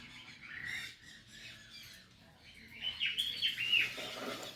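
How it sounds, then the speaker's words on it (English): A pair of sun conures at a bird attraction give shrill squawks and chirps, growing louder and more excited toward the end, with faint human talk mixed in. "I love the Sun Conures."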